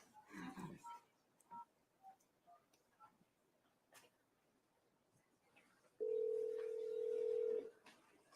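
A telephone dialing a call in a courtroom setting, with scattered faint clicks and tones followed by a steady, clear single tone held for nearly two seconds near the end.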